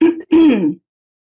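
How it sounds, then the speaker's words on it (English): A single close, loud throat clearing, two gravelly rasping pushes in quick succession, then silence. "as you can hear me clear my throat"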